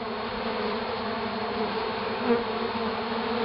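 Honeybees swarm around a trapout cone and funnel, a dense continuous buzzing hum, steady and close, with no voices.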